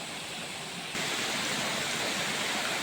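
Water rushes steadily down a waterfall and stream at Marahan, Marilog District, Davao City. The broadband roar is close and continuous, growing slightly louder after the first second, with no voices.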